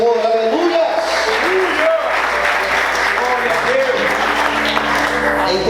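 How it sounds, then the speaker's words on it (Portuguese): A church congregation claps and applauds in praise, sustained and lively, with voices and shouts of praise mixed throughout. "Você pode aplaudir e exaltar ao Senhor."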